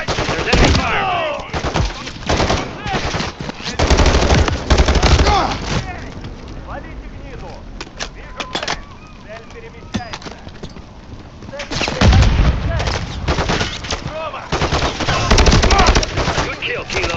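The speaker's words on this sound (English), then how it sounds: "There's enemy fire!" Bursts of automatic gunfire and rattling machine-gun shots fill a battle in the shooter game Call of Duty: Modern Warfare 3, loud and close, with quieter lulls between volleys and voices calling out over the fighting.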